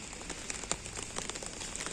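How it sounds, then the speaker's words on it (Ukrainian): A cold, steady rain falls on an outdoor market, a dense continuous patter of drops striking surfaces with occasional louder splats, heard close and fairly quiet with no voices. "щоб отакий дощ був холодний, мерзкий, дощ осінній"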